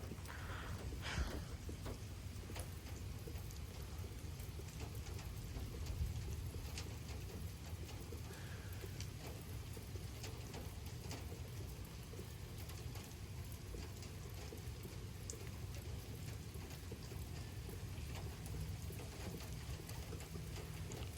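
Heavy rain pours down steadily during a severe thunderstorm with strong wind gusts, a dense, continuous wash of sound close around the listener beside a brick post, with wind buffeting the microphone throughout.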